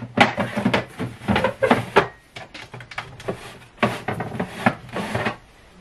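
Large acrylic drawers are slid open and shut in a run of scraping, clattering bursts with short pauses between, close and fairly loud, with no talking.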